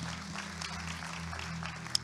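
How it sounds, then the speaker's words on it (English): Church congregation clapping together, a steady, dense patter of applause heard at a modest distance over a low hum, with no voices. "Come on, clap if you have."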